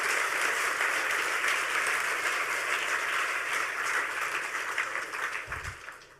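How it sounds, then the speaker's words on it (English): An audience at a hacker conference talk applauds with steady, dense clapping for several seconds that gradually tapers and fades near the end. "Round of applause for him if you don't mind."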